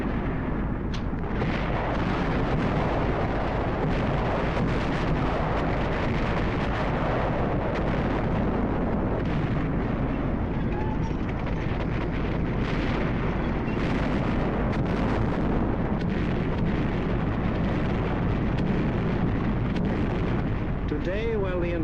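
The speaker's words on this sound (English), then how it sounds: "heavy bombers roar out over the heads of the advancing ground forces, blasting away systematically" Bombs bursting during a heavy bomber raid in wartime Europe, a continuous loud rumbling barrage of deep explosions and blasts with roaring engines, dense and unbroken for the whole stretch.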